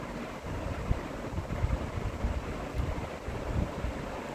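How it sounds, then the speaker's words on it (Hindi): Sprite soda poured into a glass of falsa berry juice for a falsa margarita, making a steady close-up fizzy, splashing rush that lasts throughout with no talking. "इसमें हम डालेंगे स्प्राइट।"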